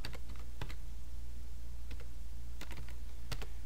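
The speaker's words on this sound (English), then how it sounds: "Typing all of this" Keys on a computer keyboard clack in short, irregular bursts of a few strokes each over a low steady hum, with no talking.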